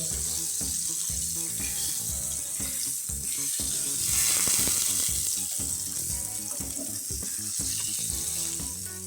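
Bangda (mackerel) fish fries in a pan and is turned over partway. A loud, continuous sizzle carries on throughout, swelling briefly midway, with music playing underneath.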